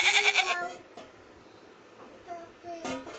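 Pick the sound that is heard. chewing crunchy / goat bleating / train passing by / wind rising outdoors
goat bleating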